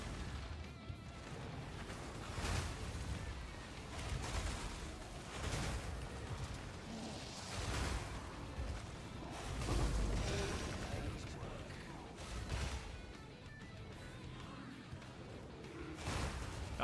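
Explosions from the video game Path of Exile 2 thud repeatedly as heavy booms and slams, spaced a second or two apart over a dense, busy game-sound background at low level.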